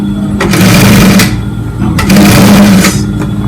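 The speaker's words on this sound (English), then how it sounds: "So now I'll start the stitch." A sewing machine stitches a sleeve onto an armhole in two loud, close bursts of rapid whirring, separated by a short pause.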